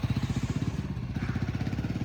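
A motorcycle pulls away on a snowy Himalayan mountain pass in winter, its engine chugging in a steady, even pulse that stays fairly quiet and constant throughout.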